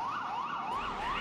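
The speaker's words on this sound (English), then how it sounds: "Let's give them the normal sirens." A wailing emergency vehicle siren in the Emergency 4 Manhattan mod video game rises and falls in steady repeated sweeps, continuous and fairly loud with no talk.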